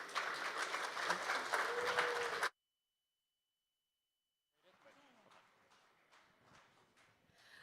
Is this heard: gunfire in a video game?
no